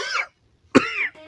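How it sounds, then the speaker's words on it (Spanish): Someone with a cough coughs twice up close. The first cough is shorter and the second is sharper and harsher, with a brief quiet gap between them. "tengo tos"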